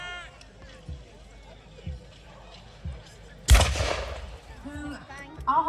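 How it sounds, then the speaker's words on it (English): A single loud, sharp gunshot or cannon blast from Lancastrian guns cracks out midway through a medieval battle reenactment at Tewkesbury, preceded by a few dull thumps, with a commentator speaking throughout. "there's covering fire going on from the Lancastrian guns still"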